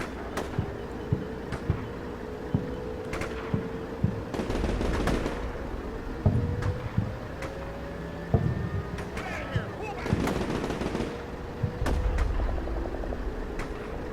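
Sustained gunfire in the tactical war game Combat Mission Shock Force 2, with repeated sharp reports and bursts spread across the clip over a steady engine-like drone, at moderate loudness.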